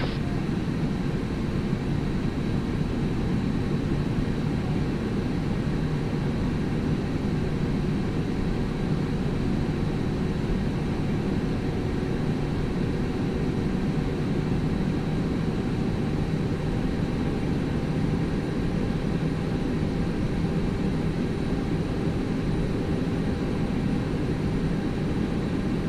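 Airliner EC639 taking off from runway 27 at Taoyuan, heard as a steady, muffled low roar of engines, likely from inside the cabin, continuous and even throughout with no talking.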